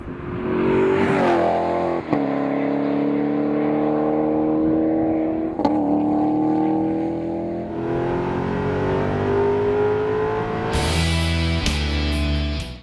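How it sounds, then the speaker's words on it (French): A Maserati V8 paired with a robotised sequential gearbox pulls hard on the road, its deep engine note climbing through gears with brief shift breaks, loud and close, and a sharper blare near the end. "Le moteur 8 cylindres en V est couplé à une boîte séquentielle robotisée"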